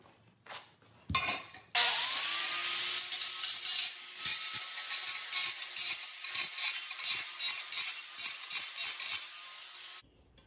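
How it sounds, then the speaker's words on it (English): An angle grinder starts up and whines steadily while cleaning up cut metal edges on a DIY trail camera lockbox, its pitch dipping in repeated pulses as the disc bites, then it cuts off. "Then I'll just take that grinder again and I'll just clean up those edges there."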